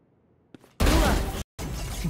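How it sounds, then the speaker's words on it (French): A Valorant agent's dash ability in the video game sounds as two quick, loud whooshing bursts of noise separated by a brief gap, preceded by a faint click. "On entend les dash."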